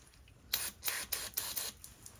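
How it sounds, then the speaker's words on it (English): Several short hissing bursts of aerosol brake cleaner sprayed onto the ignition points of a BMW R75 motorcycle, one after another in quick succession, close and fairly loud against a quiet background. "give the points a little spray with some brake cleaner"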